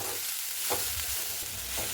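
Stirring in a pan over a low sizzle, with a couple of soft scraping strokes around the start and near the end.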